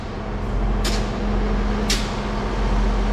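A Class 159 diesel multiple unit idles at a station platform, giving a steady low engine drone with a constant hum and two brief hissing bursts over the top.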